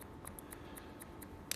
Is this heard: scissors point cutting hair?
yes